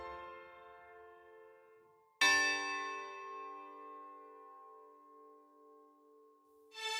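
A bell rings out with a bright strike, its tone ringing on and slowly fading before another strike begins at the end; a fainter earlier ring decays beforehand.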